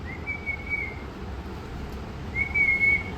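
A person whistles two short, high, steady notes, heard faintly, with a gap between them over a low outdoor background hum.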